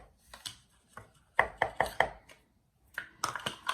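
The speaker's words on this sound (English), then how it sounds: "I'm going to put the 1 cup of almond flour in." One cup of almond flour going into a bowl for healthy berry muffins, heard as a run of sharp knocks and scrapes, a quick cluster of four in the middle and more toward the end, with no talking.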